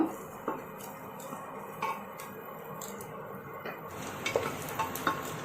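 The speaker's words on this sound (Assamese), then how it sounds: "আৰু কাজুখিনি দিও মই লৰাই থাকিম কাজুখিনি এটা ৰঙচুৱা বৰণ নাহালৈকে লৰাই থাকিব লাগিব" Cashews stirred in hot oil in a pan for pulao, giving a soft sizzle with scattered clinks and scrapes of a spoon against the metal.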